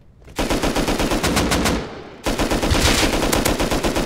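AK rifle fire in a video game, two long, loud bursts of rapid automatic shots close up, separated by a brief pause, with no talking.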